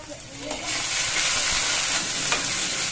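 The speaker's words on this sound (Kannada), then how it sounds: "ನೋಡಿ ಈಗ ಈರುಳ್ಳಿ ಫ್ರೈ ಆಗಿದೆ" Onions frying with ginger garlic paste, cumin and curry leaves in a pan, a loud continuous sizzle and hiss close up with a stir or two.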